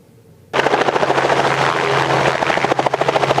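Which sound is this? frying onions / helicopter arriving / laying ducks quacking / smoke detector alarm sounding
helicopter arriving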